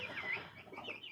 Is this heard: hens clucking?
yes